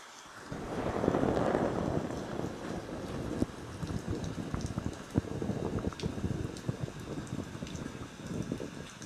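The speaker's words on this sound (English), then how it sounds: "That rain might be a little too loud." Steady rain patters and hisses continuously, with a rushing wind-like swell early on and scattered drops ticking through.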